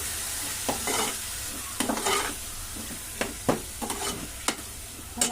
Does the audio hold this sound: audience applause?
no